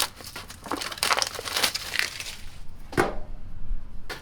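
Strapping tape is pulled and wrapped around LiFePO4 battery cells, giving a close crinkling, tearing rasp in uneven bursts with a couple of sharper cracks as the tape unspools.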